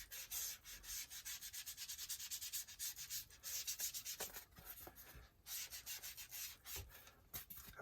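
Vintage Photo distress ink rubbed around the edge of a journal page, a steady run of soft, quick scrubbing strokes close up with brief pauses, no talking.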